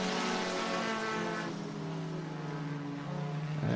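Race cars roar around a dirt oval speedway at Cottage Grove Speedway in Oregon on championship night, a continuous loud engine drone with harmonic whine shifting in pitch as the pack passes.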